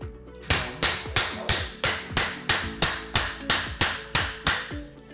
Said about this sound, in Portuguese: Utilize um martelo e um saca-pino.